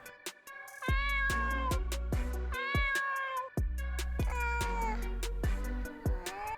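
A cat meows repeatedly in a series of loud, drawn-out, wavering cries close to the recorder, with short pauses between calls and no talking.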